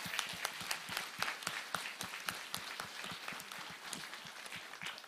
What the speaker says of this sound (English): Can we give Dan a round of applause this morning?